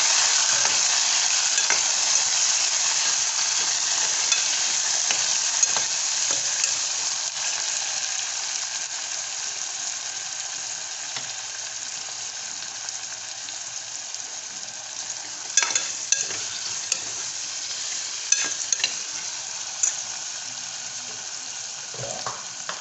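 Chopped peeled tomatoes frying over browned onions in a pan for Indian dal, a steady loud sizzle running throughout with occasional stirring clinks near the end.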